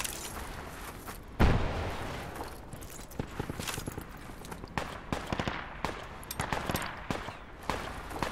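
Gunfire in the tactical shooter Project Reality, on the Cave Bunker map: a loud close blast followed by scattered bursts of rapid shots and sharp cracks, irregular and continuing amid busy battlefield noise.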